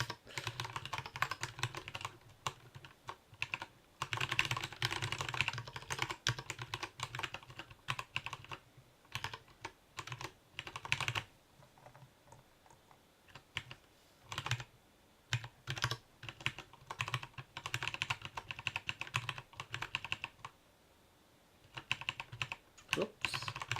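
Typing on a computer keyboard while writing Haskell code goes on for about 24 seconds, with rapid close clicking bursts broken by brief pauses.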